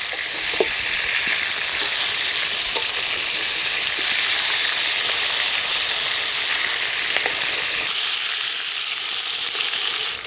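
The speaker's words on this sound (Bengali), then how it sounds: "মাছগুলোকে লাল করে ভেজে নেব।" Tengra fish frying in mustard oil with black cumin seeds, a loud, dense and steady sizzle that crackles continuously and stays close, with no voices.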